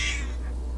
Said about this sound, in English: That's my cat, who of course decides to come and start meowing at me right when I start recording